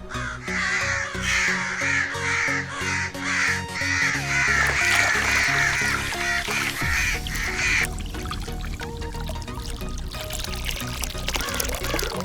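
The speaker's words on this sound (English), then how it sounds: "crow sound, crow sound effect." Crows give a fast series of harsh caws up close for about eight seconds, then the calling thins out and a steady rushing, pouring-water-like noise takes over.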